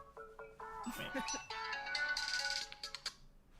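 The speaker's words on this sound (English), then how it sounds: "Hang on, I'm getting a phone call." A phone ringtone plays a melodic electronic tune for an incoming call, heard under and around talking voices during a tabletop role-playing session.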